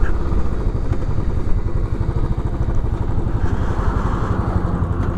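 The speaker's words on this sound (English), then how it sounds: "Put it in 1st gear, and I'll just let the engine braking take me down." Royal Enfield Classic 500 motorcycle in first gear engine braking down a steep descent with no throttle, a loud close single-cylinder thump with steady rapid pulses and some clatter.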